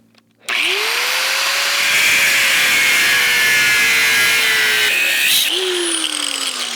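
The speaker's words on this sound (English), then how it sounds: "I just switched to a cutting wheel so I can sort of get down in there and cut it closer to the base metal" An angle grinder fitted with a cutting wheel spins up and bites into a steel weld near the base metal on a trailer build, a loud continuous shriek and whine that dips as the wheel loads.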